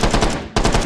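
Rapid gunfire in the video game Affix Bayonets, a loud, continuous automatic burst that briefly drops away midway and then resumes at full strength.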